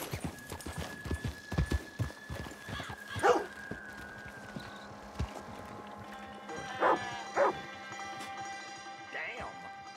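Video game sound from Red Dead Redemption 2: hooves clop steadily on hard ground while a horse whinnies and snorts, with voices talking over it and a dog barking briefly.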